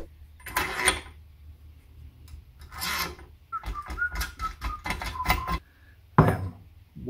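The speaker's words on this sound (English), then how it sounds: "You tighten it up, it draws the bush out." A nut is wrenched tight on a threaded puller to draw a bush out of a TVR Chimaera wishbone during a chassis restoration, giving bursts of rasping, grinding metal-on-metal turns with short pauses between strokes, close up and fairly loud.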